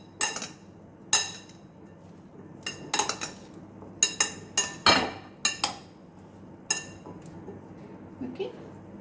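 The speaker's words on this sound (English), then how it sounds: "Just lightly toss the salad." A chickpea salad is tossed in a bowl, giving light, irregular clinks and taps of a utensil against the bowl, spaced out over several seconds against a quiet background.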